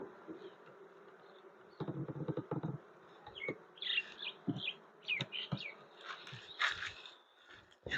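A honeybee colony hums steadily inside a hive as the bees strengthen the family, a dense close buzz with individual bees swelling louder in bursts, no voices.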